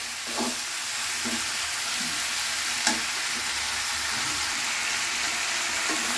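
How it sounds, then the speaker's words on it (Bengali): Spices fry in a pan with turmeric for a cauliflower and potato curry, giving a continuous close sizzle broken by a few soft scrapes of stirring and no speech. "এইটা নাড়ছি, আস্তে আস্তে কালার এসে যাচ্ছে।"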